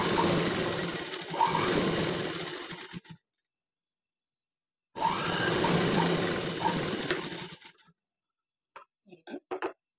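A sewing machine stitching patchwork fabric in two sustained runs of rapid mechanical whirring, a silent pause between them, then a few short bursts, close and loud, no voices.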